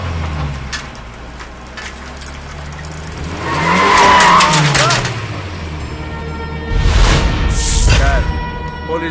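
A police jeep in a film scene starts up and pulls away. Its engine swells in two loud, revving surges, with a brief tire-scrub sound, while voices talk in the background.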